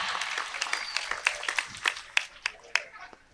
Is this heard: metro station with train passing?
no